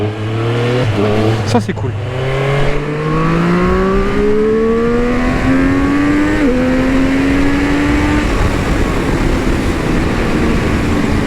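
A Triumph Street Triple 765 RS motorcycle engine pulls strongly from low revs, its rising whine climbing steadily through a gear change, loud and close, with a rider's brief spoken comment near the start.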